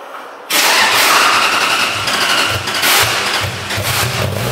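A Toyota 1UZ V8 swapped into a Nissan 240SX cranks and catches, bursting into a loud, rough idle that settles into an uneven running rumble with slight surges.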